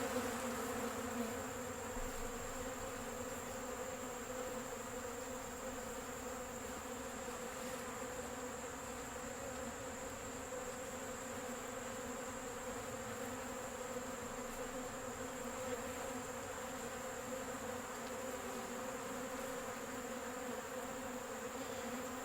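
Honey bees gather around a feeder, their steady droning buzz holding an even level throughout, close and continuous with no voices over it.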